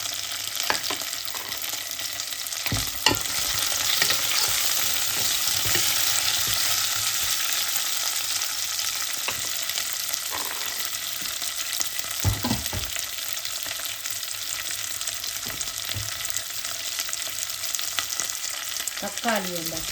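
Onions frying with chilli powder for a soya meat curry, a steady close sizzle with occasional spoon scrapes and stirs, no voices.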